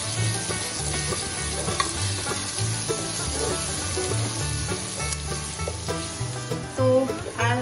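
Chopped onions fry in a pan, giving a steady, crackling sizzle with occasional stirring scrapes, close and moderately quiet, with no voices.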